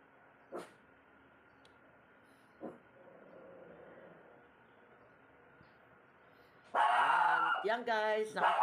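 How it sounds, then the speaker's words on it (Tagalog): Two short, sharp dog barks sound apart against a quiet room hum, then a loud run of rapid, excited barking and yelps close by. "pagpasensyahan nyo na yung ingay ng aking doggy."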